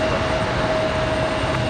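A steady, loud roar of an airplane taking off from runway 23 left at Raleigh-Durham International Airport on a windy day, a continuous broadband engine rumble with a faint steady tone running through it.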